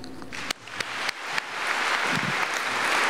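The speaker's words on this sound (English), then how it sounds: "And now keep that applause going for writer and firebrand Helen Razer." An audience at a live festival talk in Melbourne applauds, with a few scattered sharp claps early on swelling into a steady, broad wash of clapping from a large crowd.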